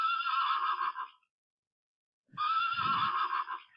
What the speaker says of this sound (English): Okay, let us try for a horse. Horse. Yes, you are correct.